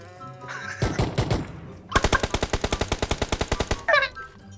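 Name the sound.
gunfire in video game PUBG Mobile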